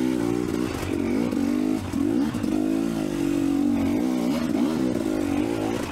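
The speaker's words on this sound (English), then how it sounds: "having a fun day of riding dirt bikes" A dirt bike engine revs steadily on a rough off-road trail at Johns Peak OHV, holding a loud, close mid-pitched drone with brief dips and surges as the throttle shifts.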